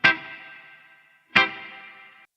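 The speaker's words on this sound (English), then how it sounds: "it even has that Motown-style reverb on it" Tonalic chord sample with Motown-style reverb: two sustained chord stabs, each with a bright attack that rings out and decays in a reverb tail, the second following about a second and a half after the first.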